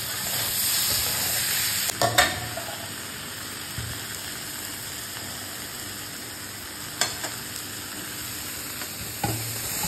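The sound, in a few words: sautéing vegetables and tomato in a pan for khichuri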